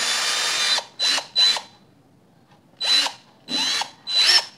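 An INGCO cordless drill runs in five short bursts of high whirring motor noise, separated by brief pauses and one longer gap, loud and close with no talk.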